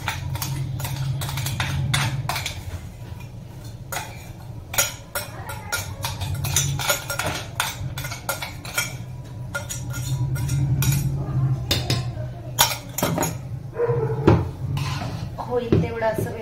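Salt with red chilli powder or green chillies being mixed into food in a bowl: a run of close, bright clinks and scrapes of a utensil against the bowl over a low background hum.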